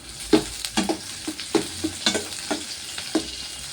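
Shallots and green chillies sautéing in a pan for fish curry, a steady sizzle broken by repeated scraping stirs at a quick, uneven rhythm, close and fairly loud, with no talking.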